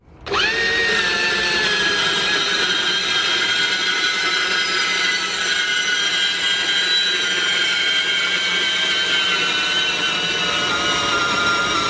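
A Makita bandsaw mounted in a DIY jig spins up and cuts steadily, a loud sustained whine with tonal ringing lasting throughout, close and without talk.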